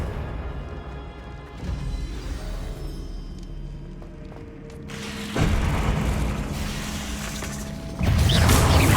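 Confringo fire spell explosions in the Hogwarts Legacy video game, heavy booming blasts that surge in loudness twice over a continuous rumbling game soundscape, no talking.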